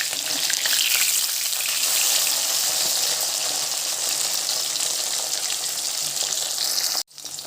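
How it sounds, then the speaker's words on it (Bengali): Pabda fish pieces frying in oil in a wok, a loud, dense, continuous sizzle heard up close, then cutting off abruptly near the end before quieter sizzling resumes. "এখন আমি মাছগুলো ভাজা করে নেব। এক পাশটা হয়ে গেছে, আর এক পাশটা উল্টে দেব।"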